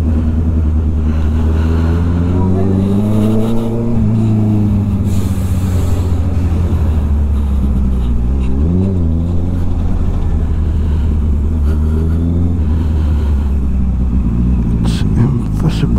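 A Toyota Land Cruiser cruising along a congested city road, its steady engine drone and tyre rumble running continuously with gentle shifts in pitch as it speeds up and slows, while people talk inside the cabin throughout.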